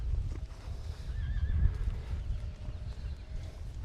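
Horse in early training whinnying loudly with a wavering neigh, hooves clip-clopping on the ground beneath, close by and unaccompanied by talk.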